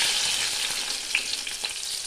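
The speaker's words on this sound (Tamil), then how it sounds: "தக்காளி போட்டு நல்லா ஃப்ரை பண்ணிக்கலாம்." Tomatoes fry in hot oil after onions in a pan for paneer gravy, giving a steady loud sizzle with small pops and stirring scrapes; no talk.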